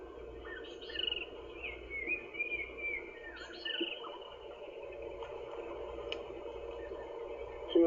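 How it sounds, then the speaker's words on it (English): Arrow-marked babblers chatter in the morning bush on an African safari, a faint, distant babbling of scattered calls over a low steady hum. "birds you can hear in the background are called arrow-marked babblers, and babbling they certainly are this morning."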